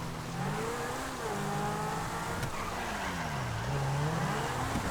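In GTA 5, a modified car slides on a wet, rainy road as its engine drones and tires squeal in wavering tones under steady road and rain noise.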